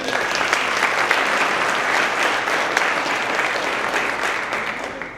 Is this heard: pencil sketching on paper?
no